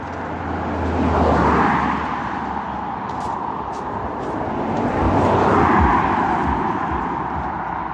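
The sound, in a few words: car passing by playing loud music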